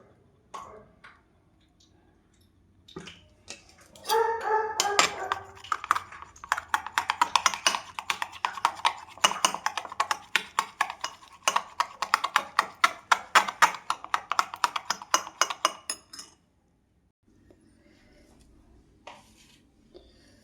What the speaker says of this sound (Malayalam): ദോശമാവ് കുറച്ച് ഒഴിച്ച് മിക്സ് ചെയ്യണം